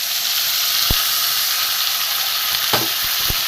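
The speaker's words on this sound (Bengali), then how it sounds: "মিক্সিতে পেস্ট করা মশলাটা আমি তেলের মধ্যে দিয়ে দেবো" Steady loud sizzling of ground spice paste frying in hot oil for a fish curry, with a few sharp clicks of a utensil against the pan, close up.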